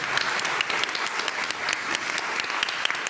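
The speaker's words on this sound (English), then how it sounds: "I think it would be wrong if we don't give them a round of applause." Audience at a social prescribing conference applauding link workers: dense, even clapping sustained throughout, fairly loud and close, with no talk over it.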